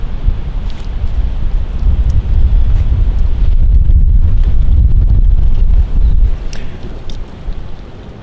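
Strong wind buffets the microphone at an outdoor campsite on a cool fall day, a loud, continuous low rumble that eases briefly before gusting again, with no voices.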